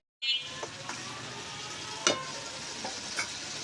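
A spice paste with coriander powder and salt fries in oil in a pan, a steady close sizzle broken by a few soft knocks of stirring.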